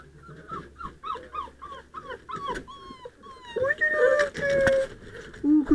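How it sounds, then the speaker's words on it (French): A puppy whimpers and whines in short high-pitched cries, close by, with a person talking softly in French over and between the whimpers. "Oh, le petit chien."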